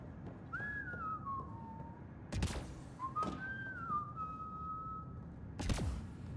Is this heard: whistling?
yes